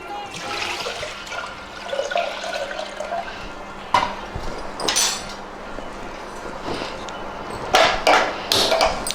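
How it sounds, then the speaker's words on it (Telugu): Water is poured into a clay pot for cooking rice, giving a close, splashing, gurgling run of liquid with a few sharp knocks and clatters of the pot partway through and near the end. "మొదటగా ఇలా అన్నం వండుకోవడానికి మనం మట్టి పాత్ర తీసుకున్నాం, దీనిలో నీళ్ళు పోస్తున్నాం."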